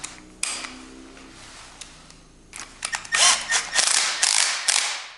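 A ratchet mechanism is cranked back down on a stretched 232cc Ruckus scooter during a wheel change. It starts with a few quiet clicks, then builds into a rapid run of louder, close ratcheting clicks.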